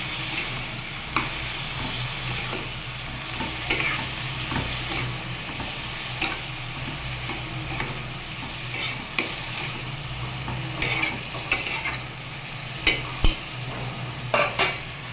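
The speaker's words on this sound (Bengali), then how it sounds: "এবার এটাকে ভালোভাবে নেড়েচেড়ে মিশিয়ে ঢাকা দিয়ে দেবো।" Vegetables frying in a pan for a vegetarian vegetable dish with green chillies and cumin tempering, stirred with scattered scrapes and clinks over a steady low sizzle, close and moderately loud, no voices.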